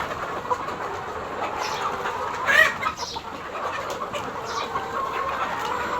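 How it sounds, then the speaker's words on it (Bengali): Layer hens on a poultry farm cluck eagerly at feeding time, a dense, steady flock chatter with a brief louder burst midway and no voices. "দেখেন মুরগিগুলো খাবার খাওয়ার জন্য কেমন করতেছে।"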